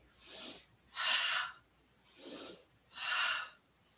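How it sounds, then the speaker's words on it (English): Breath pushed out through the mouth during a yoga session with weights: four steady, airy exhalations about a second apart, close and fairly loud, with no talking. "Exhale through your mouth."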